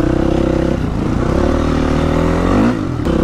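Honda CRF450 dirt bike fitted with a Lex exhaust, loud and close, its engine droning steadily with slight pitch shifts and a brief rev rise near the end, no voices present.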